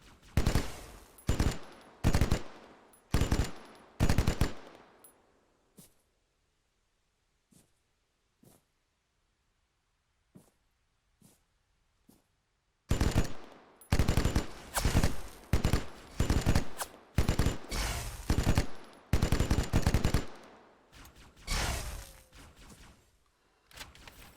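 Automatic and single gunshots fire in a first-person shooter battle, arriving in loud rapid bursts, then a quieter stretch of scattered isolated shots, then heavy sustained volleys again.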